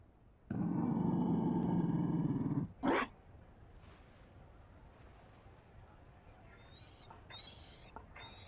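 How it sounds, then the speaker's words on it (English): A Mabari war dog growling in Dragon Age: Inquisition, a loud, sustained rumbling snarl lasting about two seconds followed by a short sharp bark or grunt, then quieter background. "You found a dog? They don't breed Mabari in Olay."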